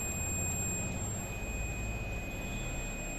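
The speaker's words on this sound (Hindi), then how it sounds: "तो आप देख पा रहे होंगे मल्टीमीटर के अंदर बजर बोल रहा है।" A multimeter's continuity buzzer emits a steady high-pitched tone throughout while a wire in a TVS Apache BS6 motorcycle headlight circuit is being checked, faint over background hum.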